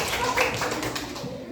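A classroom of students clapping hands together on cue, a brief dense burst of claps at moderate volume with some chatter mixed in.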